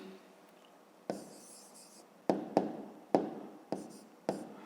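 Marker or chalk strokes on a board during a Ukrainian 5th-grade maths lesson on greatest common divisors: a series of separate scratchy strokes, about six distinct bursts, close and fairly clear with no talk over them.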